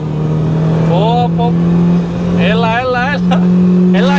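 Car engine droning steadily and rising under hard throttle on an unaligned car, a constant low hum running throughout with voices talking over it.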